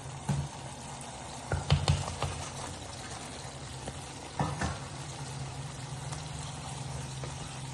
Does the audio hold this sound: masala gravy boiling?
yes